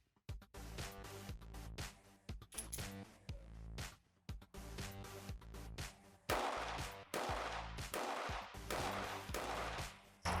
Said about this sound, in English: that was the Sig P365 macro with Sig 150 grain FMJ